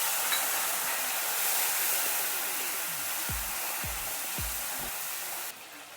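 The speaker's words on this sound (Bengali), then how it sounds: "টমেটো একটু নাড়াচাড়া করে ভেজে নিচ্ছি।" Tomatoes frying in a pan of hot oil with nigella seeds for Bengali village cooking. A steady, close sizzle and hiss continues throughout, with a few soft stirring thumps near the end.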